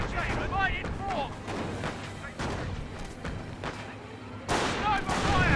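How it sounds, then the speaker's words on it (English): Sniper shots and gunfire in a Company of Heroes real-time strategy battle, with repeated sharp cracks and booms over dense continuous battlefield rumble and chirping whistles, loud and close. "Sniper fire! Take cover!"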